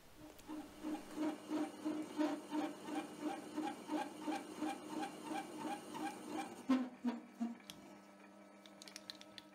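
A small lathe cuts a 1mm left-hand thread with change gears set, producing a steady, rhythmic whirring chatter of about a dozen repeating pulses up close, then slowing and fading near the end.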